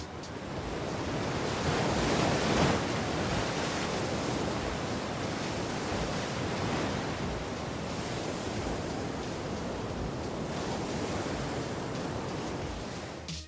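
Large ocean waves at Pipeline break and surge in a loud, continuous roar of surf with wind noise and no speech.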